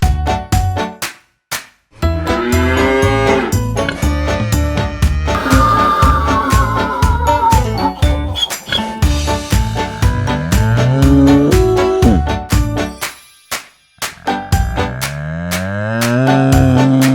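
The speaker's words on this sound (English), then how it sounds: "Calf." A calf mooing loudly and close by in a long series of drawn-out, wavering bellows with short breaks between calls, no voices over it.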